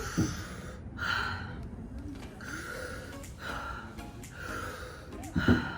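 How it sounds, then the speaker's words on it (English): Deep, elongated Wim Hof-style breathing during a push-up challenge, several slow inhale-exhale cycles, each drawn-out breath loud and close with brief pauses between. "Big elongated breaths. They don't have to be fast."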